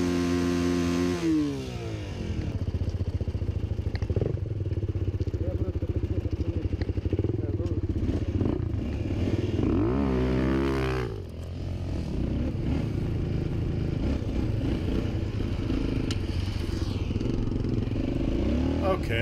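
Motorcycles rev and ride past on a road, their engines droning loudly with rising and falling pitch sweeps as they pass, while people talk over the engine noise.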